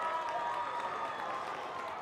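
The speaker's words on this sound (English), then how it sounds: "you can hear the crowd going crazy for this Cleveland team" Spectators at a high school boys' ultimate frisbee state championship final cheer and applaud for the Cleveland team, a steady, fairly distant roar of crowd noise with no clear individual voices.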